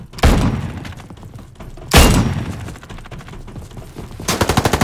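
Bursts of gunfire from the video game Frontlines, loud and close, with several sharp volleys and a rapid machine-gun rattle at the end, heard without speech.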